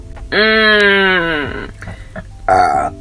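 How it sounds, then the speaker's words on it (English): A single long, loud, tonal burp from a person, followed by a short pause and a second brief belch-like sound, close to the microphone with no talk. "Sorry, I had to burp."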